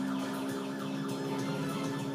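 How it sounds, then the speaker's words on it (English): A wailing warning siren alerting ground firefighters to a waterbomber drop rises and falls continuously, faint and distant, with no voices. "The siren is the way to alert them."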